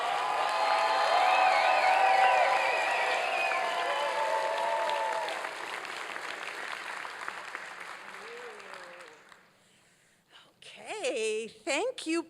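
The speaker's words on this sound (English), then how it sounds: "A round of applause to these amazing scholars." An audience at an ethnic studies commencement ceremony breaks into sustained applause with some cheering, loud at first and slowly fading over several seconds, followed by a pause and then a person talking.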